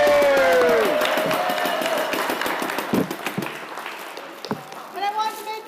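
A crowd at a hockey championship game breaks into loud applause and cheering, with whistles and shouts over steady clapping that gradually thins out, and voices calling out near the end.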